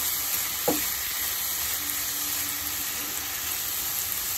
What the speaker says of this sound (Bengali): দেবো কিছু গুঁড়ো মশলা, ধনে, জিরে, লাল লঙ্কার গুঁড়ো, একটু হলুদ আর গোলমরিচ গুঁড়ো, সব দিয়ে আবার ভালো করে ভেজে নেব